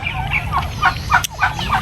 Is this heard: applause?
no